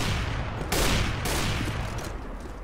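Rapid gunfire from CS:GO gameplay comes in a quick burst of overlapping shots at moderate loudness, with no voices.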